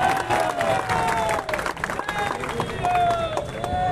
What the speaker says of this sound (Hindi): एक बार जोरदार ताली बजनी चाहिए